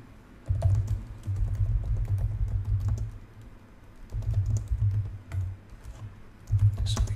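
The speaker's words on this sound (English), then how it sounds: "So let's write the code for that." Steady keyboard typing while code is written in a Java Spring Boot and Leaflet mapping project, dense bursts of keystrokes with short pauses, close and fairly loud, no voices.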